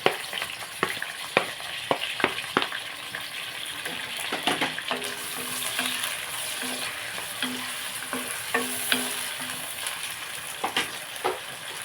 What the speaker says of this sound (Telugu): ఆనియన్స్ వేసేసుకుందాం పచ్చిమిరపకాయలు వేసేసుకుందాం